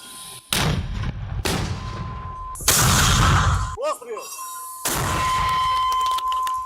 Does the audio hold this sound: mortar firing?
yes